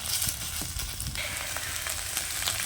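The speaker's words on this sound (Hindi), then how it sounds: "साग को मैंने 3-4 मिनट अच्छे से भून लिया है।" Mustard greens (sarson saag) frying in a pan in a village kitchen, giving a steady, close hiss and sizzle with light stirring clatter.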